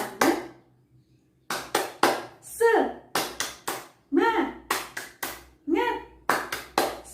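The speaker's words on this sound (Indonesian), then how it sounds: "Coba tepuk semangat dulu." An elementary class performs the rhythmic 'tepuk semangat' spirit clap, sharp claps in a patterned beat alternating with short chanted voices, loud and close in a room.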